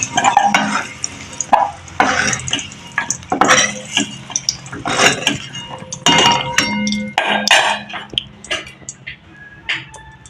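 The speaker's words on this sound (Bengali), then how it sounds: "এবার এর মধ্যে আমি সামান্য দিয়ে দিলাম ফোড়ন, কুচানো পেঁয়াজ, ক্যাপসিকাম দিয়ে দিলাম।" Chopped onion and capsicum with tempering spices go into a hot pan after fried potatoes, for an egg and cabbage dish; a spatula stirs and scrapes in repeated close bursts, with metallic clinks and a soft sizzle beneath.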